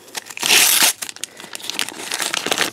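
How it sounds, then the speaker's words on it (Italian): Crinkly plastic wrapping torn open from a LOL Surprise All Stars doll card, a loud burst of crumpling and tearing followed by lighter rustling and crackles, close and alone. "Apriamo anche la card."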